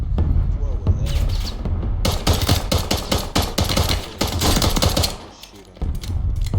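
Pistol fire from the video game Warzone comes as rapid, dense, sharp shots in loud bursts over a constant low background, with a short lull before the firing resumes.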